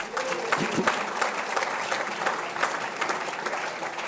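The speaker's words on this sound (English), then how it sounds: "Another round of applause, please." A crowd applauds at a volunteer-honouring awards ceremony, a dense, even wash of clapping that holds steady throughout, with occasional faint voices mixed in.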